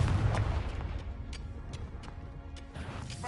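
Confringo spell blasts in the video game Hogwarts Legacy, a booming crash at the start followed by several sharp bursts and impacts over a rumbling battle backdrop.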